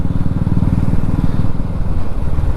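A Yamaha R15 sport motorcycle idles or runs at low revs close by, a loud steady throbbing engine rumble with no change in pace throughout.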